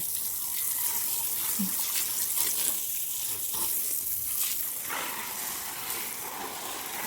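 Water sprays steadily from a hose onto garden plants and flowers, a soft continuous hiss with faint splashes on leaves, moderately close and uninterrupted.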